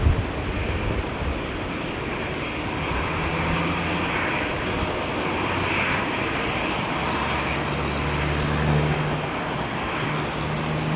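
Qatar Airways jet arriving at London Heathrow in gusty wind, a continuous low engine rumble and roar blended with wind noise, sustained at moderate level throughout with no voices.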